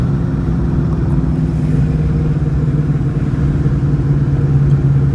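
A 2004 Cobra engine running in third gear at light throttle, around 1800 rpm, after new coil packs, spark plugs and TPS were fitted for throttle hesitation; a steady, loud, close low rumble holds without break.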